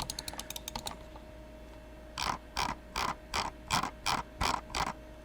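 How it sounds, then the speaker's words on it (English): The mechanical scroll wheel of an old Logitech Performance MX mouse ratchets in a series of loud, distinct clicking bursts, close up, after a few faint ticks at the start. "And that's a mechanical scroll wheel. Hear that? It's just noisy."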